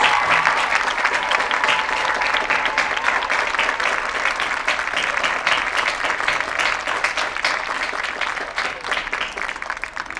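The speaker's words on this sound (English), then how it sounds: "One final round of applause" Loud, steady applause from a school assembly audience honouring newly announced student leaders, many hands clapping in a dense, continuous wash that gradually softens toward the end.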